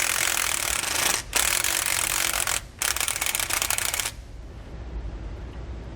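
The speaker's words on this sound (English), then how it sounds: "We're going to use a 15mm socket and a 22mm wrench to hold the nut on the back." A 15mm socket and 22mm wrench working loose the shackle hardware on a rear anti-sway bar of a 2015 Thor motorhome, giving a steady rapid ratcheting clatter in two long runs broken by brief pauses, close and loud, then fading to quiet.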